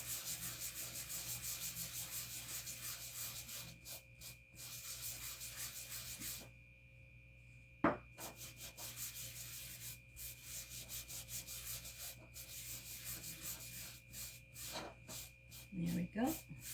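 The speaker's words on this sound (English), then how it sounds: "I'm going to wax it a little bit. Just to prep the surface" Wax rubbed by hand onto a black-painted wooden Halloween pumpkin, a soft close continuous rubbing with back-and-forth strokes, briefly pausing, while someone talks over it.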